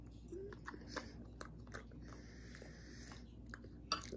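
Someone bites and chews raw onion up close, making soft, wet crunches that repeat irregularly under a low background hum, with one sharper bite near the end.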